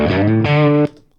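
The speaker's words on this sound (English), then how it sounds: "we got a lot more breakup, we got a lot more distortion there, okay, a lot more overdrive" Electric guitar with gain pushed up in Studio One, thick distorted overdriven chords ringing loud and sustained, one change of chord midway, then cutting off into quiet.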